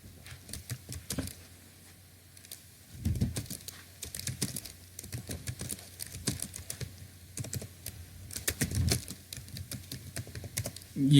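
Fingers typing text on a computer keyboard, a steady patter of close key clicks with a few brief pauses and heavier strokes, no voices.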